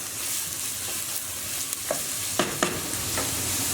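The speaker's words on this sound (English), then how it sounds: "we just want to fry that on a medium heat until they're browned and softened" Onions sizzle and fry in a pan over medium heat, a steady hiss broken by a few sharp stirring scrapes.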